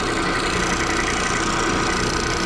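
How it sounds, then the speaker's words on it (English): A belt sander running on Gulbransen player piano pneumatics, held close, makes a steady, dense whirring rumble that stays constant throughout with no pauses or talk. "I turned to my sander, my belt sander at that point"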